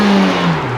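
Hyundai Veloster N four-cylinder engine revving through its valved exhaust, a loud, steady close-up drone that eases slightly in pitch over a brief moment.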